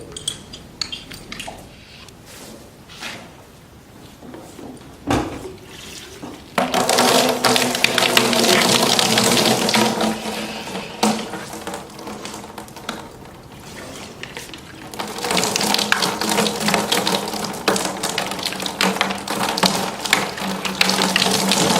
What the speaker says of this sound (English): So we've got water with the disinfectant in it. Here we're rinsing your mouth, just getting all the feed material out